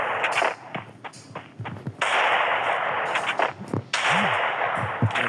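Gunfire from an M10 in the mobile game Free Fire, played during headshot practice, cracks out in several sharp bursts of quick shots mixed with game effects, loud and close with no talk.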